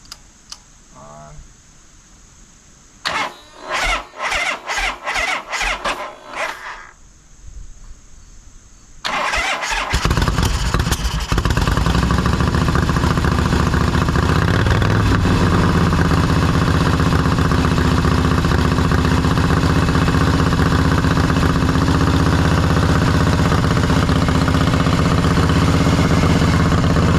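A 1985 Shovelhead-style motorcycle engine is cranked in several short bursts, goes quiet, then fires and settles into a loud, continuous idle that runs for well over fifteen seconds.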